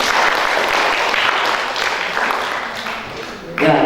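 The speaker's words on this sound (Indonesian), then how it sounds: "Oke, bisa kita berikan tepuk tangan?" An audience at a youth forum in Karangasem gives steady, moderately loud applause for several seconds, with a voice coming in near the end.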